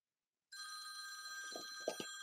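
A telephone rings with a sustained bell-like electronic tone that starts abruptly and continues, fairly faint, while soft low sounds like movement or a voice come in near the end.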